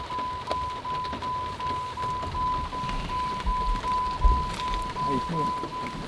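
Steady rain patters on a surface with a constant hiss during a competition fishing outing, while a faint tone hums and an occasional low rumble sounds in the background.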